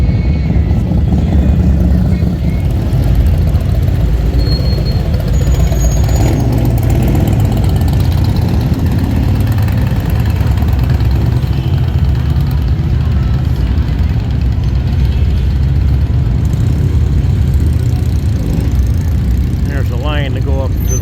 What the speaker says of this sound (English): That's the second vehicle I've seen, four-wheel vehicle come down Main.